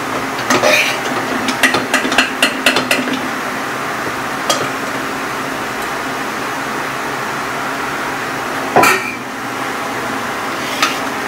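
Khichuri with boiled chana dal is stirred in a pot, making a quick run of scraping clinks at first and then a few isolated knocks. A steady background hum runs underneath throughout.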